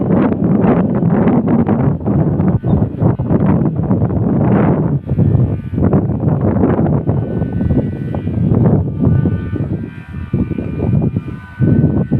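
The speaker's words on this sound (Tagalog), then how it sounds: "Lakas ng hangin" Strong typhoon wind blasts hard and continuously against the microphone while a kite is flown, gusting and flapping loudly throughout with a low roaring rumble.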